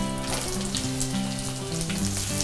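Onions hit hot oil already frying garlic and red chilies, giving a steady close crackling sizzle with no voices.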